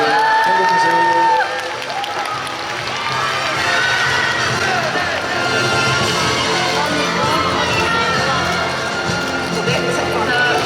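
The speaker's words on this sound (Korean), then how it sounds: "큰 박수 치면서 저희 이 자리 마감하도록 하겠습니다" Large audience at the BIFF film festival open talk for the movie Exit cheering and applauding loudly and continuously, a dense wash of clapping and whoops with voices mixed in.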